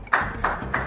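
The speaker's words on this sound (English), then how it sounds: "This one's not a pity clap." Audience at a speedrun marathon event clapping in three short, separate bursts, each a sharp smack-like onset that fades quickly, fairly close.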